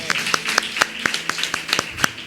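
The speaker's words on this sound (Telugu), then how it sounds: "ఆయన క్లాప్స్ కొట్టుదాం ఈరోజు" A church congregation claps in unison, a crisp, evenly spaced beat of sharp claps repeating about every quarter second, close and lively.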